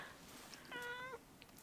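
A cat gives a single short, faint meow about halfway through, its tone bending slightly, against a quiet room background.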